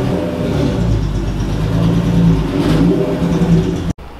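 A powerful widebody Acura NSX engine roars and revs loudly up close, its deep rumble rising and falling steadily before cutting off abruptly near the end.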